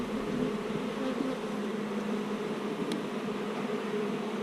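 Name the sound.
honey bees buzzing at a hive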